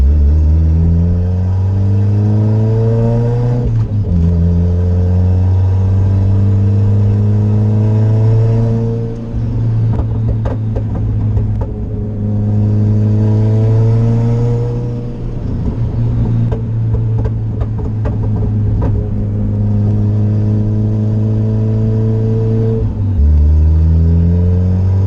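A Honda CR-V with an open downpipe exhaust revs loudly and rises in pitch through gears, a harsh buzzing engine note swelling and dropping over about twenty-five seconds with no talk.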